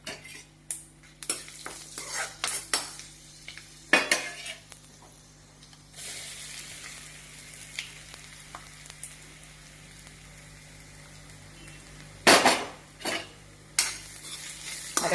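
Curry leaves, dried chillies and ground paste fry in a pan, giving a soft sizzle broken by spoon scrapes and stirring clatter, with louder bursts as ingredients drop in.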